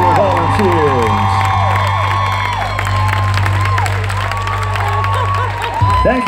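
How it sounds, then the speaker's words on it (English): Audience at a luau show cheers and applauds for volunteers, a loud crowd of clapping, whoops and shouting voices with tonal music-like sweeps running underneath. "big round of applause for your volunteers"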